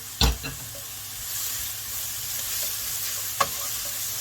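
Carrots stir-fry in a hot pan with a continuous close sizzle, punctuated by two sharp utensil clacks, one near the start and one near the end, with no talking.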